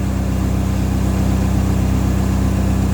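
Komatsu SAA4D102E-2 diesel engine on a D31PX-21 dozer running at low idle, a steady loud low rumble with an even pulsing beat and a faint hum, continuous and close, with no voices.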